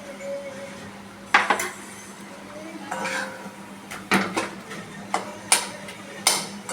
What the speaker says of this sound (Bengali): আমি পনির কেটে দিলাম এই যে কাটা হচ্ছে